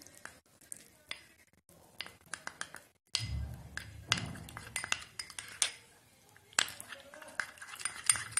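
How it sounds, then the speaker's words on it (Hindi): A spoon stirs a honey skin paste in a bowl, producing a series of sharp clinks and scrapes against the bowl at irregular intervals, close up, with quiet talking at times. "अब इन सारी चीजों को आप अच्छी तरह से मिक्स कर लें"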